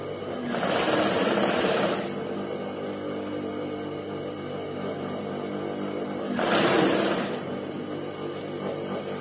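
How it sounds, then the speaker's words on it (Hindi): A sewing machine stitches a neck lining, running in two bursts of rapid whirring and clacking with a quieter pause between them, close and clear over a faint room hum. "अब नीचे तक आए सिलाई लगाते हुए।"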